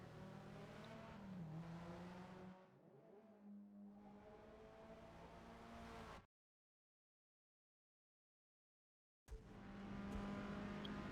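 The engine of a Hyundai Veloster N in Forza Motorsport revs and drones steadily, easing off and rising again. A few seconds of silence cut in before the engine returns, loud and sustained.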